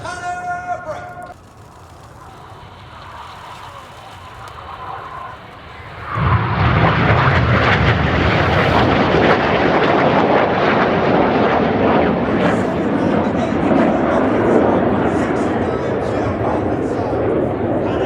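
Royal Air Force Red Arrows jets in a display break at the RIAT 2024 airshow swell into a loud, sustained roar that fills the air after a quieter build-up, with a voice heard over the public address early on.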